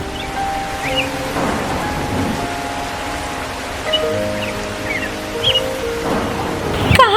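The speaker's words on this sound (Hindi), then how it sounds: "इतना बारिश और तूफान है" Rain and a thunderstorm in a Hindi animated cartoon: a steady hiss of rainfall with a few deeper thunder rumbles swelling near the start and end, set under sustained music tones and with no voices.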